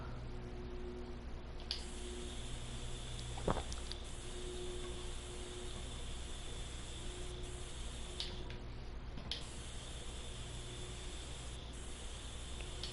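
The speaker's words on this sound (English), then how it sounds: "I just spray painted some brake lights on there" Spray paint hissing from a can in Tank Mechanic Simulator, applied to an M3 Half-Track being restored, a steady soft hiss under low game ambience with a brief sharper burst partway through.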